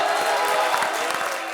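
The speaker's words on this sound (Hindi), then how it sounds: "इसी बात में ठोको ताली।" An audience at a comedy show claps and cheers in a steady, dense burst of applause, loud and close, with no clear talk over it.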